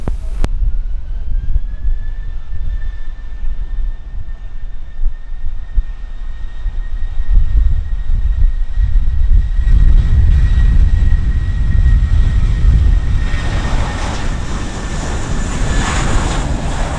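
A JetBlue airliner taking off from runway 07 at Montego Bay, Jamaica, in a 19-knot wind. A loud, sustained jet roar with a whining engine tone that swells as it passes, heavy rumble and wind buffeting throughout.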